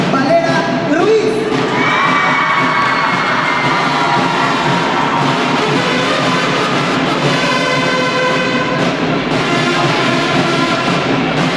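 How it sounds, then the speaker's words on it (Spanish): A loud crowd at a town beauty queen coronation in Teziutlán, Mexico cheers and shouts continuously, with high-pitched whoops and screams layered over a steady roar of applause. "pedimos fuertes los aplausos para recibir en esta pasarela a Griselda Varela Ruiz."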